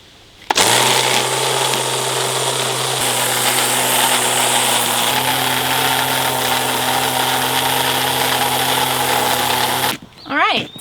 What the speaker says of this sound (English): So the weed whacker works, and that was like way better than using our gas one.